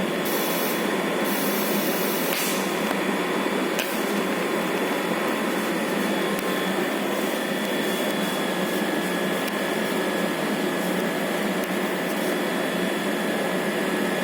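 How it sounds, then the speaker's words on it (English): TIG tack welding with an argon-shielded torch, a continuous steady hiss and buzzing electrical drone filling the whole stretch, close and even with no voices. "This is the tack welding only."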